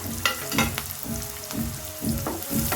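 Chopped onion and thinly sliced green chillies frying in hot oil in a pan, a steady close sizzle with periodic stirring scrapes over it, with no talk.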